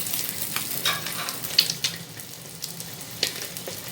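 French toast frying in ghee on a hot tawa, a close, even sizzle with a few soft scrapes and taps from turning it, nobody speaking.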